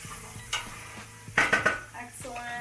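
A spoon clanks and scrapes against a pot while cauliflower and parsnip vegetables for a creamy vegan soup are mixed, with a quick cluster of metallic knocks in the middle and faint talk behind.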